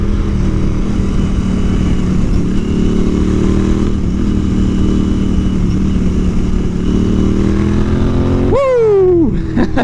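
A Royal Enfield Continental GT 650 cafe racer motorcycle carries steady, loud engine drone through a corner on a country road, then the revs swing sharply up and down near the end.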